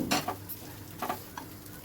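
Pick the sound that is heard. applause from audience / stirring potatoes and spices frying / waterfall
stirring potatoes and spices frying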